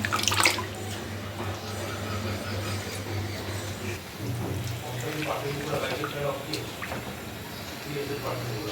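Cut vegetables being washed in water, with sloshing and dripping splashes running throughout while someone talks over them.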